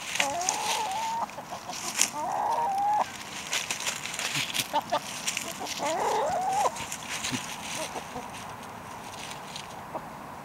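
Chickens cluck and make short throaty calls repeatedly over a noisy outdoor background, some close by and others farther off.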